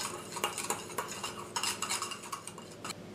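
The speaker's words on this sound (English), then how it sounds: "Stir all the ingredients until well blended." Adobo seasoning of oregano, garlic, onion, turmeric, cumin and black pepper is stirred in a bowl, with rapid rhythmic clinks and scrapes of a spoon against the dish, quiet and close.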